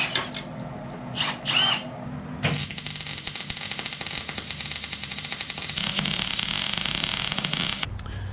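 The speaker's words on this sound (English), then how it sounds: "So what we can do now is drill our hole" A power drill bores a hole into a Suzuki Vitara rear axle housing, a loud continuous grinding whir of about five seconds after brief faint sounds.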